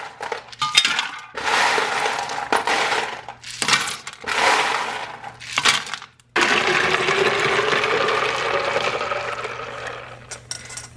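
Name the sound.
ice filling a glass jar with stainless steel spigot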